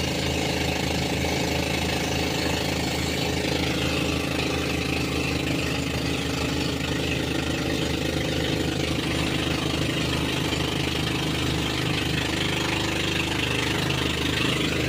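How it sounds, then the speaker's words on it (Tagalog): A loud boat engine chugs and rattles steadily throughout, a continuous engine drone with a rapid knocking rhythm and no pauses. "Magpapahina na ng makina."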